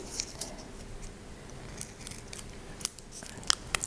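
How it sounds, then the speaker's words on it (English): Scissors snip through a papier mâché roof profile, trimming it and cutting small V shapes. The short, sharp clicks come close and irregular over a steady background hiss. "so just trim that down and cut a little V shape into two of them"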